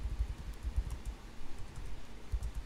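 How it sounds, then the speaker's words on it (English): Someone types a search query on a computer keyboard, a quick, close run of soft key clicks and taps. "So they will type in the search box,"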